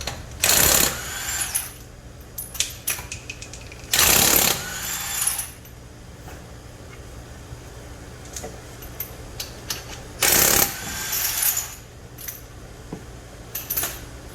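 Wheel coming off a 2012 Nissan Sentra SR during front suspension work: bursts of loud rattling, clanking metal tools at about 0.5, 4 and 10.5 seconds, with scattered lighter clinks and taps in between.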